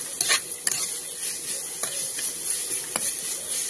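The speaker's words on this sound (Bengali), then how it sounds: "ক্যাপসিকামটা দেওয়ার পর একটু ভালো করে ভেজে নেওয়ার পর দিয়ে দেবো 1 বাটি মতো চিনি" Capsicum and sugar are stir-fried in a pan for fried rice, a soft frying sizzle broken by several sharp spatula scrapes and clinks against the pan.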